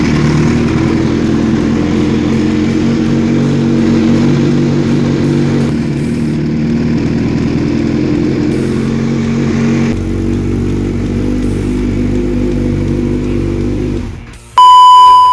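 A Kawasaki Z1000 motorcycle engine idles loud and close in a steady, throaty drone with slight shifts in pitch, before cutting off and giving way to a short electronic beep at the end.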